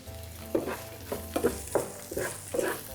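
An almond and lentil filling with ginger, salt and pepper is stirred in a pan, a soft sizzle broken by about six scraping stirs in a steady rhythm.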